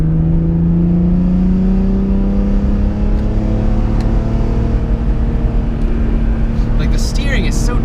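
A 2004 BMW M3 engine revving while driving, a steady climbing drone that rises in pitch, loud and close, with someone talking over it.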